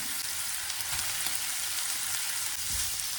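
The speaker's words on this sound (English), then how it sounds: "now we're gonna add our onions." Onions hit hot cooking oil in a pan and fry with a constant hissing sizzle. It is fairly quiet and even throughout, with no talking.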